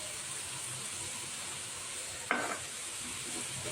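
Sauce poured into a pan of frying cabbage while making kobis goreng: steady sizzling hiss with a brief sharp splash-sizzle burst partway through, followed by soft stirring scrapes.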